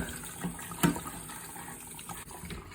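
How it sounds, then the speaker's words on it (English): Water running from a kitchen tap while preparing iced coffee, a steady hissing flow with a brief splash, fairly quiet and alone without talk. "Turn the tap here."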